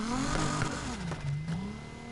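A 3-liter V6 from an Infiniti Q60 revs in the racing game Need for Speed Heat, a steady loud engine drone whose pitch rises, dips and climbs again over about two seconds, with no talk.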